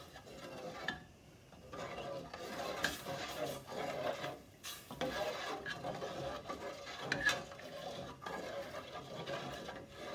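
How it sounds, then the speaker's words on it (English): Bacon gravy made with whole milk is stirred steadily in a pan, giving a quiet, irregular scraping and sloshing that runs throughout, with no talk over it. "As you're stirring, you want to get those bits that are on the pan and on the side of the pan"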